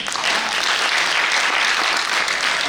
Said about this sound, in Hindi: तालियां उठती जाइए